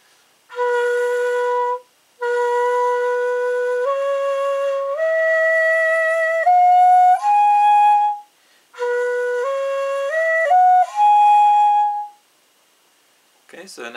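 A hitoyogiri, a Japanese end-blown bamboo flute, plays the Banshiki mode progression starting from the first open hole, pure sustained tones climbing step by step in two phrases, solo and close with no talk.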